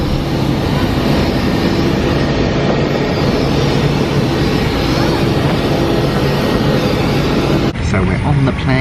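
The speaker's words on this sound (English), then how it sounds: "So we're on the plane." Airplane cabin noise on an economy flight, a loud, steady broadband roar of engines and airflow that runs unbroken, with a person talking over it near the end.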